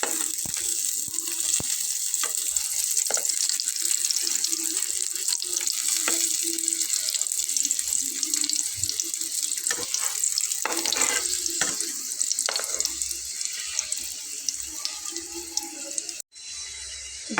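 Potato and flour snack frying in hot oil, a steady broadband hiss and crackle throughout with scattered sharper pops, ending in a brief cut near the end.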